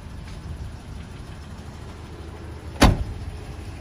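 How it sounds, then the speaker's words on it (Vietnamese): A 2005 Japanese eight-seater's 1.8-litre longitudinally mounted engine idles as a steady low rumble, with one sharp, loud clunk near the end. "Bây giờ em sẽ mở cabo ra cho các bác xem và nghe tiếng máy."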